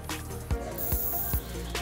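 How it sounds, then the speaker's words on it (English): Super Lube lubricant sprayed from an aerosol can onto a Z-Cutter sheet-metal shear, a few short quiet hissing bursts close by in quick succession with faint mechanical clicks. "spray a little bit there"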